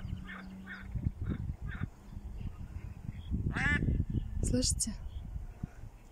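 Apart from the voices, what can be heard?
duck quacking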